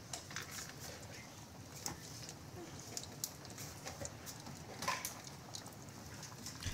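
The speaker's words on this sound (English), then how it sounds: "it's raining so hard right now" Steady dense patter of heavy rain during a storm, with scattered sharper drops, fairly faint and continuous, no voices.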